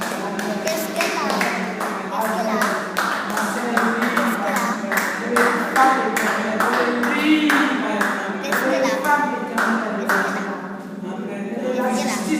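Church congregation clapping together during a French-language worship service, a steady run of sharp rhythmic handclaps that continues throughout, with singing voices blended underneath.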